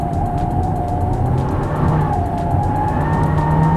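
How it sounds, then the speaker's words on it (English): A VW Golf TSI screeches its tires hard through a corner on the Sepang race circuit, a continuous tonal squeal over a droning engine, with no talking. "you can hear the tire just screaming and the traction control kicking in"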